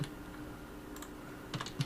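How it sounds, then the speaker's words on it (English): Computer keyboard typing while copying code into a Rhino compute and Unity project, heard as a few faint, sparse keystrokes near the start, around one second and in a small cluster near the end, over quiet room tone. "It's a lot of typing."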